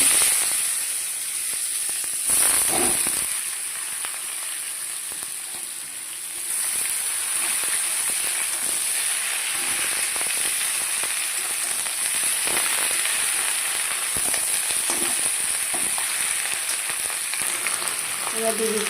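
Bottle gourd leaves hitting hot oil tempered with five-spice and dried red chili, a loud, bright sizzle with a sharp burst early on that settles into a steady frying hiss over scattered stirring clicks.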